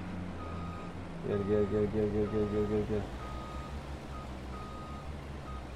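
Truck reversing beeps in Farming Simulator 22 farm game, a steady run of evenly spaced electronic beeps lasting a couple of seconds over a low engine rumble, with someone speaking briefly.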